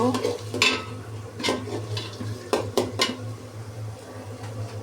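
Ingredients frying in oil in a pot for khichuri, close stirring with repeated spatula scrapes and clanks against the pan over a low steady hum and sizzle.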